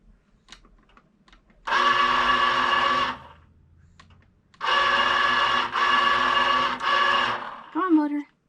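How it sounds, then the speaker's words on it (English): A Passap E6000 knitting machine motor drives the carriage in two loud, steady mechanical whirring runs with a brief pause between them, ending in a short squeal. "I'm going to set my motor up again."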